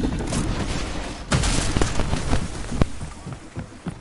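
SMG fire in a video game comes as a few sharp, close bursts of shots mixed with rough clattering game noise, with no speech.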